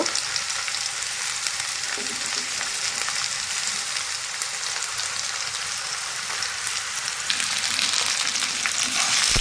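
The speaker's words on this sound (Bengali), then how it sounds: "পেঁয়াজ রসুন ভাজা হয়ে গেলে তার মধ্যেই" Crushed onion and garlic frying in a pan, with plenty of garlic and a slit green chilli, make a continuous crackling hiss that holds steady and close for about nine seconds.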